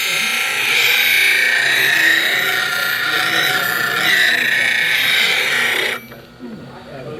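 A lathe tool is ground on a sharpening wheel to put a secondary bevel on its edge, a steady high abrasive whine held for about six seconds before it cuts off abruptly.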